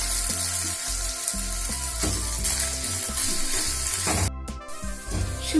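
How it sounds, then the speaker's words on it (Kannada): Chopped ginger sizzles and fries in oil in a pan for ginger gojju, a steady close crackle with occasional stirring scrapes and a brief louder burst near the end. "ಇದು ಬ್ರೌನ್ ಕಲರ್ ಬರೋವರೆಗೆ ಇದನ್ನ ಫ್ರೈ ಮಾಡಬೇಕು."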